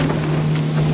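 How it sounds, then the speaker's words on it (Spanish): Strong wind buffets a microphone aboard a small boat at sea off Puerto Chale, Baja California, in rough waves, a steady loud roar with a constant engine hum underneath and no talk. "hay mucho viento y las olas están mucho, muy fuertes"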